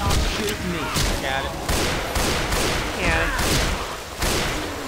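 Rapid gunfire bursts from a Left 4 Dead 2 co-op match during a tank fight, loud and dense, with recurring shots and booms layered over chaotic game noise and players talking.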